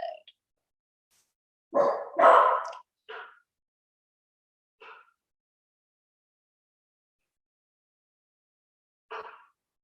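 Dogs bark in several separate bursts, a louder cluster of barks near the start followed by single sparse barks spaced out across a quiet room, moderately close.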